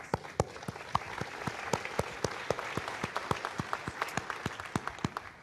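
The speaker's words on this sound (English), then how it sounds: "so a round of applause for your team" Applause for the Arianespace team after an MSG-3 satellite launch: a hall full of people clapping steadily and moderately loud, with sharp individual claps standing out through the sustained patter.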